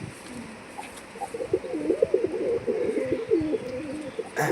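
A pair of fancy Lotan pigeons coo nearby, a low rolling warble that repeats through the middle and end over faint background noise.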